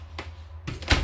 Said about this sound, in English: It's a pretty door. Shut.